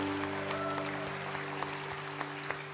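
Audience at a live Nashville-style music showcase applauding a performer named Ronnie, steady clapping and cheers over a sustained hum, moderately distant and fairly quiet.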